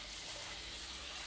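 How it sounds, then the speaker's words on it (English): Water gushes steadily from a tap into a pan holding basmati rice, a continuous close, fairly loud splashing rush with no voices. "put loads of water in"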